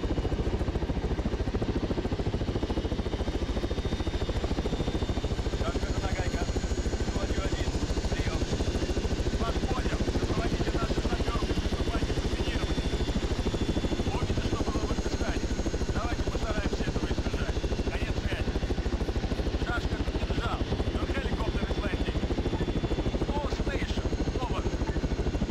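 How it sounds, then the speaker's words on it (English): Helicopter engine and rotor in Arma 3, a transport chopper droning steadily for the whole stretch under busy game sounds and talk. "that's a transport chopper."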